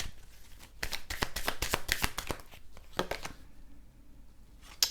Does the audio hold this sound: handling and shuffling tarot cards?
yes